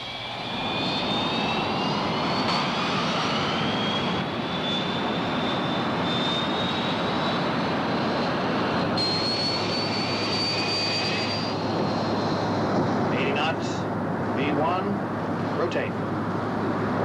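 A commercial jet's engines roar steadily and loudly through its takeoff roll, a rising whine riding over the broad rumble, while cockpit voices speak over the noise.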